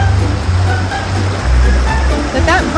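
Rushing river water churns loudly and steadily as a vehicle fords a small river, a broad continuous wash with a surge near the middle and faint higher splashes toward the end.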